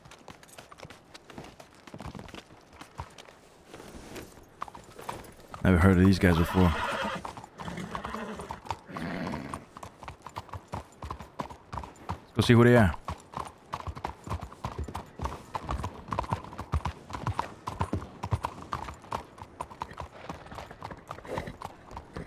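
Horses clip-clop at a stable in the Red Dead roleplay game WildRP, steady hoof steps running throughout with two louder bursts that sound like whinnies, while someone talks briefly over them.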